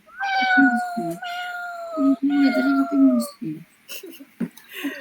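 A cat meows in a student's coding project: several drawn-out, falling meows in a row, close and clear, with a voice talking underneath and between them.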